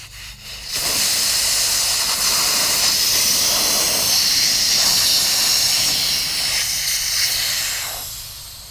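Air rushes from a flat Farmall Cub tractor tire as its valve stem core is pulled, a loud continuous hiss starting abruptly and holding for several seconds before tapering off.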